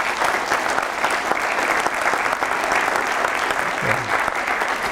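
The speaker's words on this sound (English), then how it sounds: "let's give a round of applause to them" Loud, sustained audience applause at a university lecture event, a thick, even roar of many clapping hands close by with no pauses.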